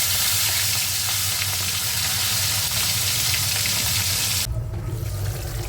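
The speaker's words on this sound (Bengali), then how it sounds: "এখানে মাছের ঝোল ফুটছে, ট্যাংরা মাছ মূলো দিয়ে" A steady, loud bubbling and sizzling from a pot of fish curry with radish boiling on the stove, continuous throughout with no voices.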